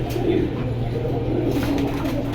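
Pigeons coo nearby in a steady, low, continuous murmur over a faint constant hum.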